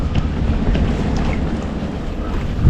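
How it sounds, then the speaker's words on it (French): Steady wind buffeting the microphone aboard a sailboat at sea off Porquerolles in a light 10–12 knot breeze, a close, continuous low rumble with faint hissing spray throughout and no speech. "Le vent est revenu."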